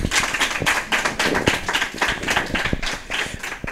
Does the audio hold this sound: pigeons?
no